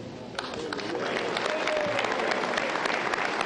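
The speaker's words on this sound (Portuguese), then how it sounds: "Michel Temer assinou o compromisso de posse diante dos convidados e foi aplaudido." Applause from guests at Michel Temer's presidential inauguration ceremony in Brazil, a dense, sustained wash of clapping building slightly and holding loud before cutting off abruptly.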